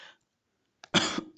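A single sharp cough bursts out close by after a brief faint sound and a pause, followed by another short throat noise.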